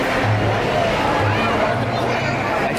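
A crowd of visitors at Universal Studios Singapore murmurs in a steady, close hubbub of overlapping voices and background noise, with nearby talking mixed in.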